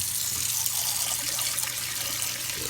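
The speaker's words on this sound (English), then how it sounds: "Wash out your eggshells a bit." Tap water runs steadily into a kitchen sink while eggshells are rinsed under it, a continuous close splashing hiss with no talk.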